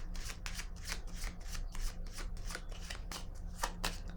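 Close, crisp shuffling of a tarot deck, a fast regular train of papery flicks and slaps over a constant low electrical hum, with no voices.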